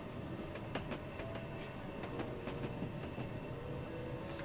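Kawasaki M8 commuter train in a train simulator game, a steady rolling rumble with repeated rhythmic wheel clicks over rail joints and a faint tonal whine, continuous at moderate level with no talk.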